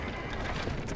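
Horse hooves clopping at a run in the video game Assassin's Creed Liberation, a quick, dense patter of footfalls heard faintly for about a second.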